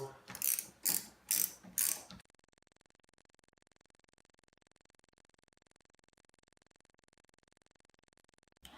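A ratchet loosens a bolt on a Ski-Doo snowmobile, giving a few loud bursts of quick clicking at close range before it settles into a faint, even ticking.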